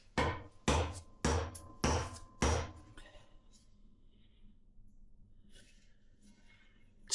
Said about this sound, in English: I ended up trying to hit the bottom of the hammer or the axe on the ground to drive the head down